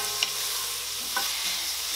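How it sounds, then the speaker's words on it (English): Onions sautéing with salt and mixed peppercorns, a steady bright sizzle with two soft stirring scrapes. "I just want to kind of saute this"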